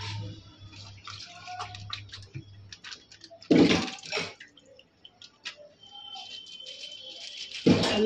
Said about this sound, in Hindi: थैलियों में पानी डाल डाल के